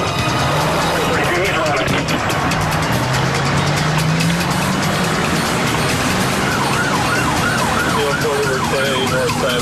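A car engine revving hard during a police chase, loud and close, mixed with wailing police sirens and overlapping voices throughout.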